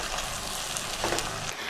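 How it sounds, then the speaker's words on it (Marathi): Onion-garlic masala with garam masala sizzles steadily in a hot pan for pav bhaji, a close, even frying hiss with a soft stir near the end and no talk. "तर हे सर्व मसाले आपण छान परतून घेऊयात।"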